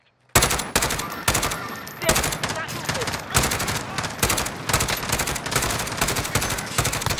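Rapid automatic gunfire erupts in the video game Warzone after a brief silence, loud repeated bursts with short gaps, with speech partly mixed in.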